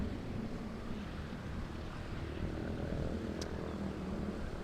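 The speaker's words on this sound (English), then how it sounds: "Something tells me this is a Cessna Skyhawk." Cessna Skyhawk light aircraft passing at an airport, a steady broad engine drone mixed with wind noise, moderately loud and unbroken.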